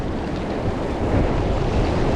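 Choppy waves churn at a river mouth on a fishing trip, a steady broadband wash with wind rumble against the microphone, loud and continuous for a couple of seconds with no voices.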